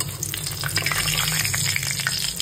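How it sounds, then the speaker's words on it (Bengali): Bay leaf and cardamom sizzle in hot frying oil, a dense, steady crackle up close with brief stirring scrapes and no voices. "ওই তেলটার মধ্যে আমি দিয়ে দিচ্ছি তেজপাতা, বড় একটা তেজপাতা সম্বাদ দিয়ে দিলাম"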